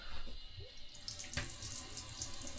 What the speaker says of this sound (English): As you can hear, the water's running through it.